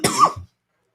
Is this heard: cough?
yes